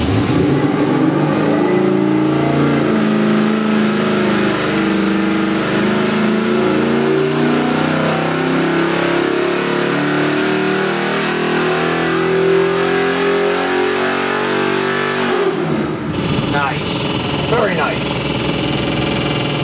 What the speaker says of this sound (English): You want to hear how this thing sounds without the pipes on it?